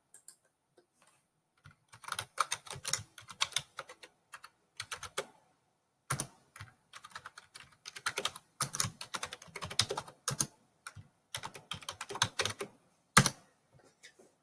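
Computer keyboard typing while entering data into an Excel spreadsheet, close and clear, in uneven bursts of rapid key clicks with short pauses between, no talking.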